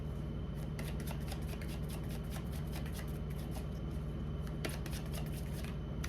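Tarot cards are shuffled close by, a steady soft riffling crackle with faint flicks running throughout and no voices.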